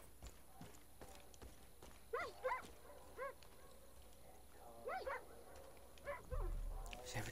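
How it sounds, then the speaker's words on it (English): A dog in the Far Cry video game gives a series of short, faint, distant barks and yips spread across several seconds over low background noise. "See, every time a dog barks, it fucking scares me."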